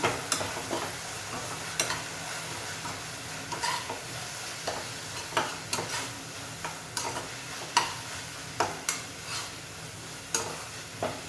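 Spices being stirred into tomato chutney in a pan over a gentle sizzle, with a spoon scraping and tapping the pan at irregular intervals, close and fairly quiet.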